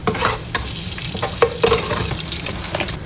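Already-browned onions dropped into a pot and frying, a loud close sizzle with brisk stirring scrapes and clatters throughout, no voices.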